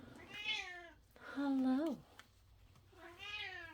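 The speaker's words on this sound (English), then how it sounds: "Please excuse my cat. She's talkative." A talkative pet cat meows three times close by, drawn-out rising and falling calls with a louder one in the middle, while a person briefly greets her.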